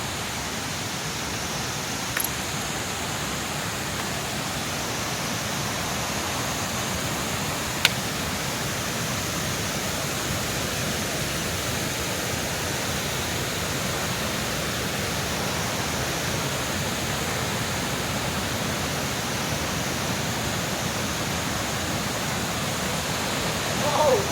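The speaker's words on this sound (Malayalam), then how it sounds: "ഇത് പക്കാ കാട് ശബ്ദം നിങ്ങൾ കേൾക്കാൻ കേൾക്കാൻ പറ്റുമായിരിക്കും" A waterfall in the forest on the Rudranath trek gives a steady, even broadband rush that fills the scene continuously from start to end, with only a faint tick or two above it.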